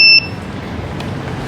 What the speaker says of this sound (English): there is a sensor that makes a beeping sound when it detects when it's full